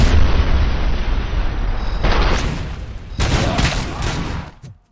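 Bursts of gunfire crack and boom in a RoboCop: Rogue City video game shootout, a dense volley followed by two more loud bursts before fading out.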